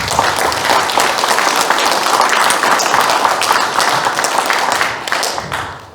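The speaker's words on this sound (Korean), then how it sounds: "우리 동원호 선생님 큰 박수로 한번 맞이하겠습니다." An audience at a book launch and talk show in Hongcheon gives a speaker a warm welcome with loud, dense clapping that holds steady for several seconds before tapering off.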